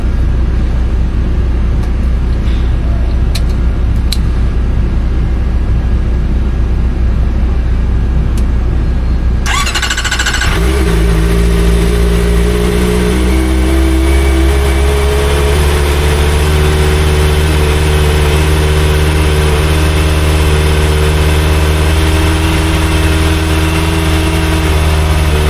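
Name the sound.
Kawasaki ZX4RR motorcycle engine starting and idling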